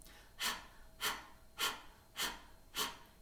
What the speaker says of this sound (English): As you're continuing to pant through the mouth